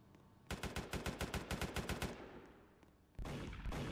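Automatic gunfire in the Roblox game SCP rBreach rings out as a rapid string of about fifteen sharp shots, fairly distant and moderately loud, followed by a short pause and a louder burst of noise.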